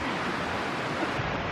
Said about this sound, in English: you got the river flowing at the side